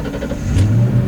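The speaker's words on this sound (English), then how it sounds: "I was excited that the car, once destined for the scrapper, is now alive and running" A once-scrapped project car's engine runs after its fuel pump is replaced, a steady low idle that swells into a rising rev midway through, close and fairly loud.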